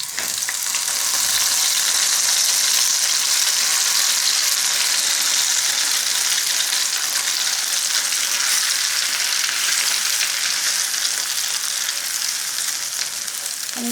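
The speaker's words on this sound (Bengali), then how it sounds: "আমি ঘিয়ের সঙ্গে খুব ভালো করে ভেজে নেব।" Semolina fries in ghee for suji halwa, making a loud, continuous hissing sizzle close up, steady throughout with light stirring noises and no voices.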